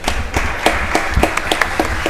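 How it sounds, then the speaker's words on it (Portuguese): Applause fills a municipal council chamber in honour of a councilwoman's birthday, a short burst of many hands clapping close and fairly loud with no voices over it. "oje é aniversário da vereadora Judete Zilli, a quem eu peço uma salva de palmas"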